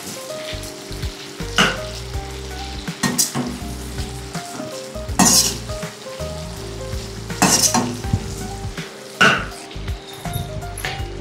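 Chicken shallow frying in a pan for pepper chicken, a constant crackling sizzle broken by several loud scraping stirs, close, under background music, with no talking.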